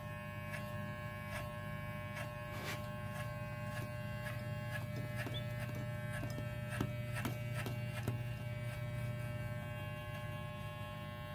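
A Walmart electric hair clipper buzzes steadily while cutting a skin fade, a constant close electric hum with faint clicks and light scraping over it and no talking.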